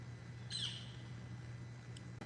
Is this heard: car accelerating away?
no